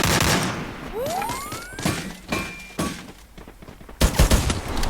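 Gunfire in the mobile battle royale game Free Fire: several rapid bursts of shots and impacts with a rising whistle-like effect, loud and close, filling the scene with game action and no talking.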